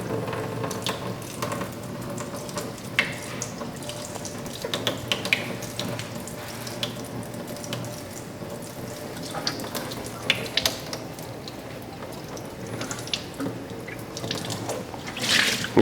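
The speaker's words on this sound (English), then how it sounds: "I'm just going to turn it, run that rinse water through the nozzle real good" Rinse water runs through the nozzle of a 1-gallon homebrew beer kit, a steady close trickle and spatter with scattered drips and small clicks of the fittings throughout.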